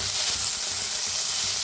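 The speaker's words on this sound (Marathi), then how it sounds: "आता ह्याच्यातच टमाटर बी भाजून घेऊया." Small native desi tomatoes roast in hot oil in a pan for an eggplant bharit, giving a steady, close, continuous sizzle and crackle with faint stirring throughout.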